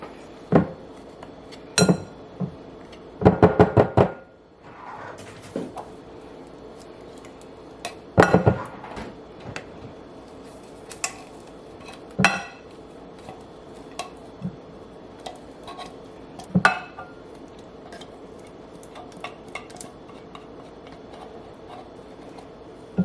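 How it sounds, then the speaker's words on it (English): Kitchen utensils clatter and clink as someone rummages for a spatula, with scattered metallic knocks and a few louder rattling bursts over a quiet room, close by, no voices. "I'm gonna just grab a spatula."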